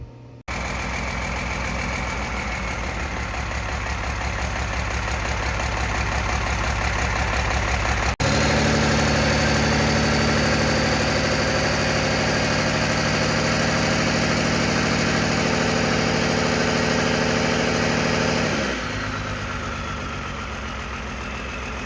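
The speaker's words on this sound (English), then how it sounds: "we have finally started up the Cummins engine for the first time" A Cummins diesel engine swapped into a squarebody Chevrolet truck cranks, fires up for the first time with a sudden jump in loudness, then settles into a loud, steady, clattering idle that eases slightly near the end.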